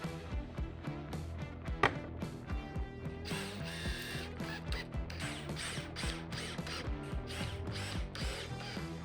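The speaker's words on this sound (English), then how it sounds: "Now I'm gonna clamp my end caps on both ends so I can flip this whole assembly" Ratcheting clicks from clamps being tightened onto wooden end caps of a rustic riser assembly, quick repeated mechanical clicks in bursts, close and clear with no talking.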